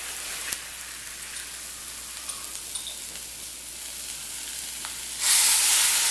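A steady sizzle of frying food fills a pan while lunch cooks, then water is poured in and the hiss suddenly swells loud and bright for the final second.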